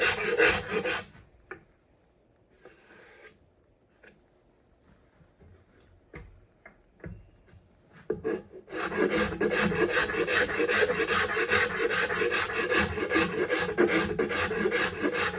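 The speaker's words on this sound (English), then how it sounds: "I'll switch to a finer rasp" A Nicholson rasp files a step into the rim of a turned wooden bowl, giving a steady, close, rhythmic rasping that starts briefly, pauses through quiet handling knocks, then resumes loud and continuous.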